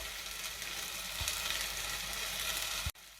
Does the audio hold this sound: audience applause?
no